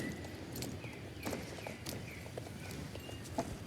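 Pony hooves trot in a video game in a quick, even clip-clop rhythm, soft and fairly distant over a faint background hum.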